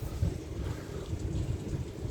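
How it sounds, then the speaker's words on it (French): A fading supercell thunderstorm over Valence in the Drôme gives a faint low rumble of distant thunder with steady rain hiss beneath, quiet and continuous. "Au revoir l'orage."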